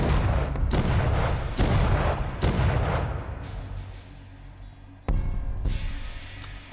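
Gunshots from the player's firearm in Vampyr: several loud, separate shots spaced about a second apart with ringing tails, a pause, then one more shot, with no talking.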